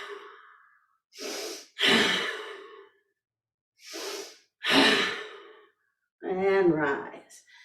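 Deep, slow yoga breathwork: a faint exhale, then a series of long audible inhales and sighing exhales close to the microphone, separated by silent pauses, the last breath slightly voiced.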